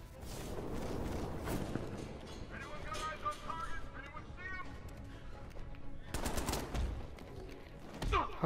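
Enemy gunfire in the Batman Arkham Knight video game, with bursts of shots crackling through a busy mix while someone talks over the action.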